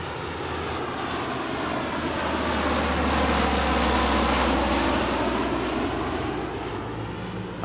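Military transport plane flying a simulated cargo drop pass at an airshow in Leszno with its rear ramp open, a broad, steady engine roar swelling toward the middle and sustained throughout, loud and close.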